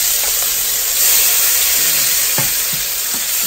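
Chopped onion drops into hot oil in a pan, releasing a loud, steady sizzle and hiss that swells slightly as it lands, with a few faint knocks beneath.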